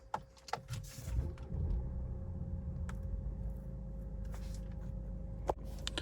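A 2020 Mercedes E200d with a 160 hp diesel engine and 9G-Tronic gearbox starting from cold: a short starter whir, then a steady, subdued idle rumble inside the cabin, with a faint click near the end.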